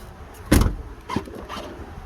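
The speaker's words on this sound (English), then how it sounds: "So now that it gets full voltage, opens the door every time." A car door opening under a 12-volt actuator on a relay: one sharp, loud mechanical clunk, then a weaker thump about half a second later and a faint rattle, alone with no talking.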